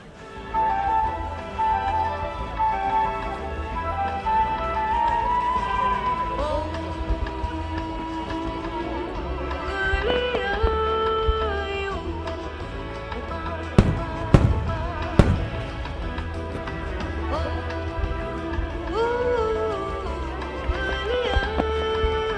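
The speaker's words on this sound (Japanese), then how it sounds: "創造花火" Fireworks display at the Omagari national fireworks competition, with music playing throughout and a cluster of sharp, loud bursts in the middle, scattered pops before and after.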